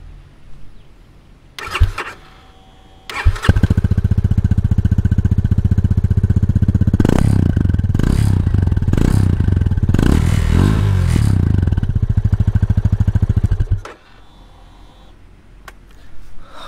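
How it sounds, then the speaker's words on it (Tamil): A Yamaha FZ25 motorcycle clatters as the starter engages, then the engine catches and idles with a loud, close, steady throbbing exhaust note, revving a few times before cutting off abruptly. "இந்த வண்டியோட எக்ஸாஸ்ட் நோட்டு கொஞ்சம் காமிக்கிறேன் பாருங்களேன்."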